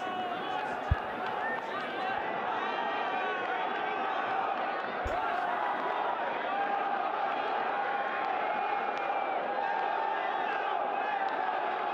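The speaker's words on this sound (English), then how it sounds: "The crowd is just chanting here. The place is heaving." A packed cricket stadium crowd chants and roars at a PSL 2017 match between Quetta Gladiators and Lahore Qalandars, a dense, unbroken wall of voices with a commentator talking over it.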